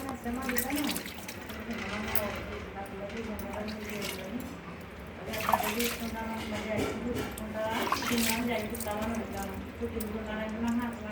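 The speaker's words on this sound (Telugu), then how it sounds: "ఇప్పుడు స్నానం చేయించడం కూడా అండి" Water poured and splashing over a baby during a bath, a steady trickle with occasional drips running under continuous talking throughout.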